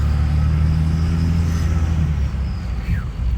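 A 6.7 diesel truck engine idles with a steady low rumble, then gets a light touch of gas and revs briefly near the end, close and loud with no talking.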